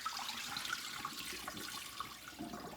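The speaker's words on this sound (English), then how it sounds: "Always wash your rice off. Wash it." Rinsing rice in water and dumping out the cloudy water, a soft continuous splashing and pouring with faint trickles, quiet and close, with no talking.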